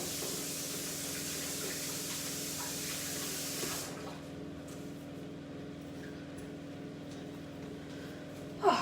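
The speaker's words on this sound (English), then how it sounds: "Let me wash my hands," Hands being washed under a running tap in a home kitchen while cooking beef stew, a steady close hiss of water that softens partway through and ends with a brief clatter.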